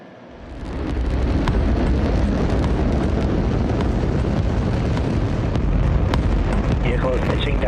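A SpaceX Falcon 9 rocket lifts off for a Crew Dragon launch escape test, giving a loud, continuous roar that swells in over the first second and then holds steady.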